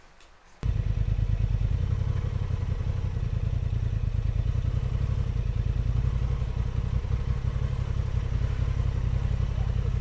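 A motorcycle engine starts up abruptly and idles loudly with a steady low rumble and rattling putter for the rest of the clip.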